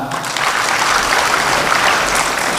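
An audience applauds at a Correctional Service Week 2024 event, a full, fairly loud burst of clapping that holds steady and swells slightly toward the end.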